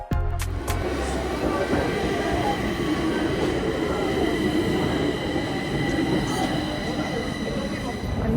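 A train near a Stockholm station rumbles and rattles steadily, with wheels clicking and a brief squeal at the start, loud and close throughout.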